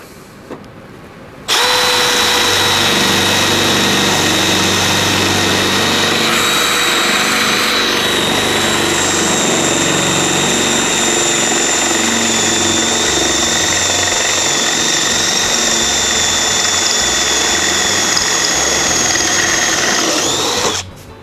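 A Milwaukee M18 CBLPD-422C cordless hammer drill runs continuously for about twenty seconds, drilling loud and close, with a steady high whine over a grinding motor drone.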